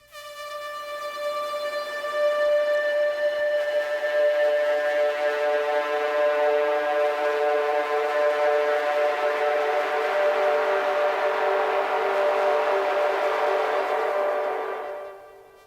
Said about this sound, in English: This sci-fi sound that I have here, I wanted to just show you as well.